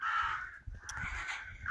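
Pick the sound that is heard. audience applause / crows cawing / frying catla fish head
crows cawing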